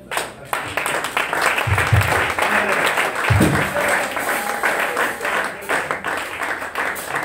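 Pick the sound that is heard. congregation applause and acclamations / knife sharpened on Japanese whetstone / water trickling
congregation applause and acclamations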